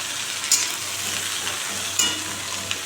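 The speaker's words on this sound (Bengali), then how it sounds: "এখন বসিয়ে দিলাম ঝিঙে আলু তরকারি" Ridge gourd and potato curry fries in a pan, a steady close hiss of sizzling oil with a couple of brief sharper crackles or stirring clinks.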